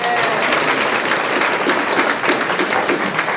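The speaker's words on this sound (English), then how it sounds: "Everybody, please give another round of applause" A community meeting crowd applauds steadily, a dense wash of clapping that holds at an even level throughout.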